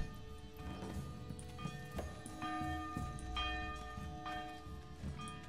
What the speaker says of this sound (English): Oh, that's bell. I thought I picked a better bell on her.